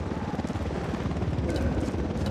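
A helicopter in the Ghost Recon Wildlands video game throbs with a rapid, steady rotor chop, close and continuous for a couple of seconds with no voices.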